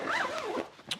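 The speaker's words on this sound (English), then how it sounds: "if you can get one that has a big bloody zipper" A zipper on waterproof pants is pulled open in one quick close rasping sweep, followed by a short sharp tug, with no voices.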